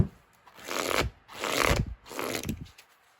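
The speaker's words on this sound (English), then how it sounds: "Okay, and I'll do another shuffle here." Tarot cards are shuffled in three brisk, rustling passes, each a short riffling swish separated by brief pauses, close and fairly quiet.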